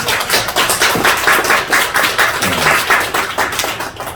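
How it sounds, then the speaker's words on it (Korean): A small church congregation claps in a quick, steady rhythm during a Sunday service, close and fairly loud, for a few seconds with no talking. "박수로 우리 축복하겠습니다"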